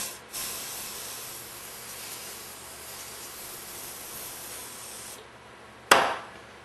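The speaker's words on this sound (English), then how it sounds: "Clean them off with solvent again, now that I loosened up any additional debris." Solvent sprayed onto corroded screw threads during a Meyer E 47 rebuild, a steady close hiss lasting about five seconds, then stopping, followed by one sharp knock and a brief burst of spray.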